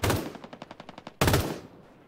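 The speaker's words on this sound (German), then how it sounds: "da hat einer eine MG, hast du es gehört?" Machine gun fire in the game Ring of Elysium: a rapid burst of about ten evenly spaced shots, then a louder, heavier blast with a fading tail, close and clear with no talk over it.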